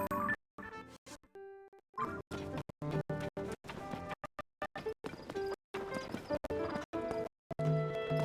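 Horse hooves clip-clop in the video game Zelda: Tears of the Kingdom, a brisk, steady rhythm of close, crisp hoofbeats with a brief neigh near the start, no talking over it.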